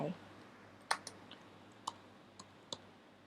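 Keys tapped on a computer keyboard to enter a value into ArchiCAD 17, a handful of sparse, light clicks spaced unevenly over a quiet room hum.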